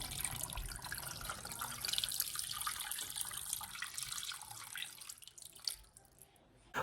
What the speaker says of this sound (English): I'm going to put it in my pot and fill it with enough water.